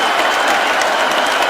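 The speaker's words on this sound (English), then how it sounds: "This crowd is on its feet." A large arena crowd at a UFC fight cheers and applauds after the bout, a loud, dense wash of clapping and roaring that continues throughout the short stretch.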